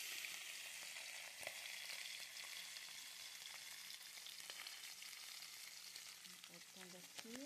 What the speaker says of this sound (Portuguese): ali na frigideira com cebola, temperinho e tudo mais. O óleo já tá quente.